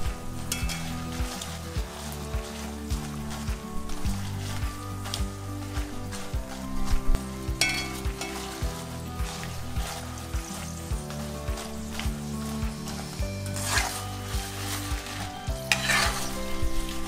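Dried chillies frying in oil on a low flame make a steady close sizzle with the rhythmic scrape of stirring, for a Kerala-style chicken fry from Trivandrum.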